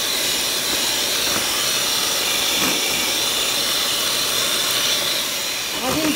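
An electric hand mixer beating oil and sugar for lemon sablé cookies, a loud, steady whirring hiss running throughout at close range, with a brief clatter near the end.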